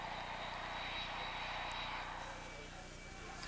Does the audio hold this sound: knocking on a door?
no